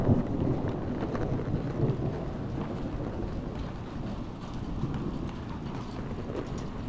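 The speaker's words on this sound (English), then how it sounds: "we got some rain coming down, big old fat rain" Heavy rain falls steadily during a rolling thunderstorm, a dense and continuous wash with low rumbling underneath, fairly loud throughout and with no voices.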